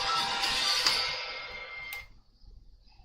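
A phone ringtone sounds nearby during a coding session, a bright electronic ring that plays steadily for about two seconds and then cuts off, leaving a quiet room.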